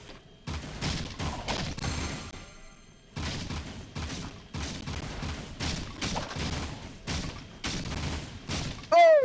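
Weapon fire in the Jak 3 video game: repeated bursts of shots with thuds and mechanical clatter, broken by short pauses, ending in a rising sweep, fairly loud and with no talk.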